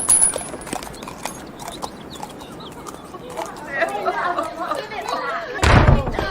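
Horse hooves clip-clop in a period radio drama, a run of hollow knocks under background chatter, ending in a louder bang.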